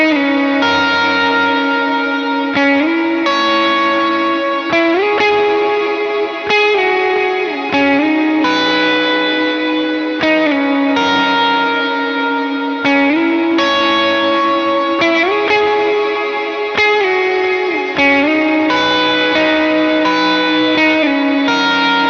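An electric guitar run through effects plays a worship tune, The Lord Will Provide: sustained chords and picked notes washed in reverb, echo and distortion, changing every couple of seconds over a steady, loud bed with no talking.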